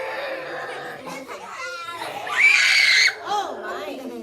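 A child lets out a short, shrill high-pitched scream in the middle of playful speech-like vocal sounds, close and loud indoors.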